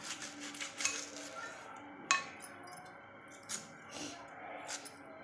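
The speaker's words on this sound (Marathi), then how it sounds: "पहिल्यांदा तर कांदा चिरते" An onion is chopped with a knife in a home kitchen: a few sharp, clicky taps at irregular intervals, quiet and close, with faint clinks against a soft background.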